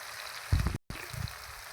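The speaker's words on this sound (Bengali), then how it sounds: "সামান্য পরিমাণ লবণ দিয়ে দিচ্ছি ভাজার সময়।" Taro stem pieces fry in oil with a soft, continuous background sizzle, broken by a couple of low stirring thumps and a brief dropout in the middle.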